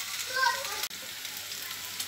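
Steady frying sizzle from a pan of meat being fried for Eid kavurma, a bright hiss running throughout with a brief clatter near the start.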